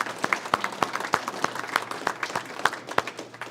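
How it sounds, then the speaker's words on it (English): A small audience at an amateur radio club gathering claps for a member, producing a handful of distinct, uneven claps that are close and fairly crisp, with a little crowd murmur underneath. "he's the one that I'd like to just have a big applause for Barry if he's listening"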